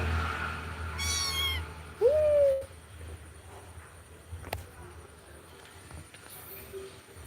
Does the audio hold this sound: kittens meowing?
yes